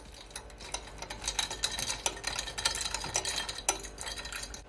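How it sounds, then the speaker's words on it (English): A spoon stirring cucumber juice with lime and ginger in a glass, making quiet, rapid, irregular clinks and taps close up, with no talking. "You can just take your spoon and just,"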